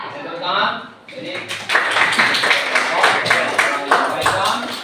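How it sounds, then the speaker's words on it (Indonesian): Students in a classroom break into a short round of hand clapping, close and fairly loud. It follows a brief stretch of speech and then carries on unevenly to the end. "Nah, bisa tepuk tangan."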